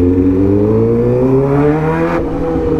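A 2008 Suzuki GSX600R motorcycle engine pulls hard under acceleration, its close, loud whine climbing steadily in pitch before a quick shift drops it briefly, with no voices over it.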